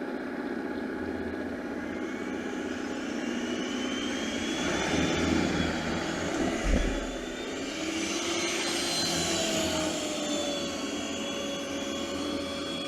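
A Yeedi robot vacuum cleans a room, giving off a steady whining hum with gliding pitch shifts as its suction rises and falls, plus a soft thump midway.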